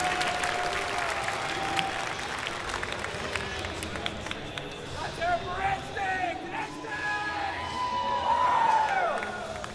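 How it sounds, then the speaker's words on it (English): Crowd of fans at a Halo esports match cheering and applauding steadily after a game win, a continuous roar of claps and shouts with a few whistles rising near the end, with a voice heard over the noise. "We got some Instinct fans out in the crowd."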